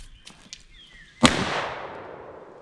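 A single loud blast from a Mossberg 12 gauge shotgun fired at a target about 15 feet away, with a sharp crack and a long decaying outdoor echo, preceded by faint small clicks.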